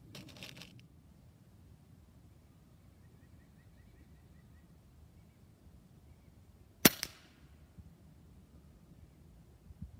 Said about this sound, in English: I'm going to shoot one more for the complete group.